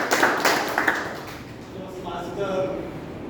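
Brief applause at a Toastmasters club meeting, a few sharp hand claps at first that fade into a quieter room tone within about a second, with faint voices after.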